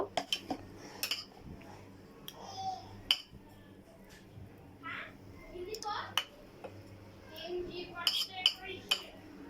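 Chicken pieces are mixed in a bowl with ginger-garlic paste, chili powder and salt, with soft scattered clinks of a utensil on the dish and faint voices in the background.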